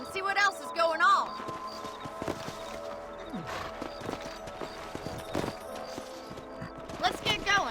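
Horses clip-clopping along in the Red Dead Redemption video game, their hooves tapping steadily under a busy mix of game sounds, with speech and an occasional whinny.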